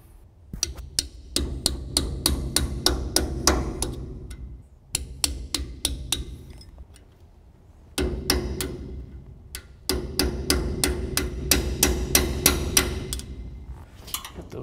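A hammer strikes the bent locking tabs on a trailer wheel end in rapid, ringing metallic blows, delivered in several bursts separated by short pauses, loud and close.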